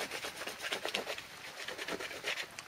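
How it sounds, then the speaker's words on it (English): Birch bark scraped by hand into small shavings, a steady series of dry, rasping strokes in quick rhythm, close and moderately loud with no talk. "Just scrape it across like this, and you will start to see small shavings."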